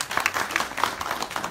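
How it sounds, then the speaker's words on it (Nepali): An audience at a film event breaks into applause, dense crowd clapping at moderate level, steady throughout the short burst with no talk over it. "एकचोटि जोरदार ताली।"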